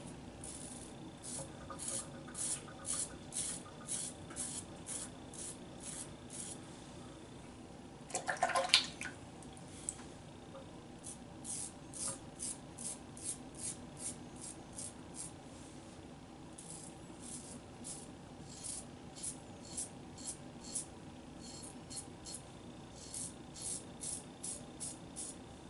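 A razor cuts through stubble during a traditional wet shave, producing quiet, rapid rasping strokes repeated in short bursts, with a brief louder scrape midway and no talking.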